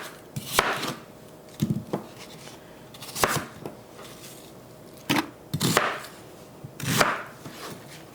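A knife mincing ginger on a cutting board during kimchi preparation: irregular bursts of quick chopping strokes, several clustered taps separated by short pauses, close and crisp with no talking.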